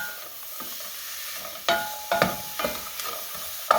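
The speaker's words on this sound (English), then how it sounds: "So this is going to have to saute for a little bit here." Small onion and shredded cabbage saute in a pan with a soft, low sizzle, broken by several sharp scraping clicks of a spoon or spatula stirring.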